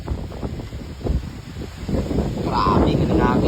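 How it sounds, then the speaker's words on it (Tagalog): Strong gusting wind during a typhoon near a damaged treehouse, loud buffeting rumble on the microphone that builds and grows steadier, with people talking over it. "Grabe ka ng hangin."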